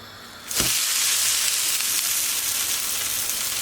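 Oruk in a thin film of olive oil on a granite pan bursts into a loud, close sizzle as it is set down, then keeps up a steady bright hiss to the end.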